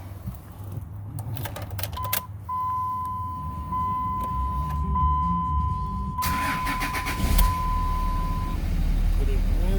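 A 2003 Dodge Ram 3500 with a manual gearbox and 5.9 Cummins diesel cranks and turns over, its engine rumbling up and settling into a steady idle, with a dash chime tone ringing through the middle.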